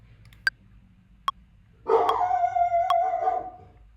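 A dog howls in a long, wavering cry after a few sharp clicks, with a bark or two breaking into the howl, close and loud against a quiet room.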